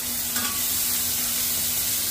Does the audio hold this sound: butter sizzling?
yes